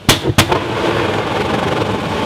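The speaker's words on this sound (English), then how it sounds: "It was just a bit of a backfire." A scrap metal furnace oil burner backfires with two sharp, loud bangs in quick succession, followed by a steady roaring rush of the burning flame.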